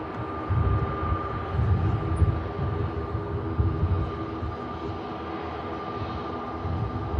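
ATR turboprop airliner arriving at Manchester Airport, heard as a steady, fairly distant engine drone with a low rumble and a faint sustained tone, continuous throughout with no talk.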